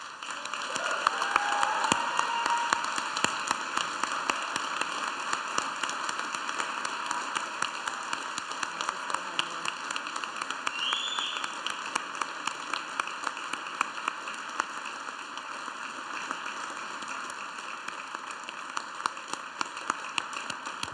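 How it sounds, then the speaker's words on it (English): Sustained applause from graduates and audience at a BCIT winter convocation ceremony fills the hall, a dense patter of many clapping hands that swells early and carries on evenly throughout. "Keep standing, keep applauding."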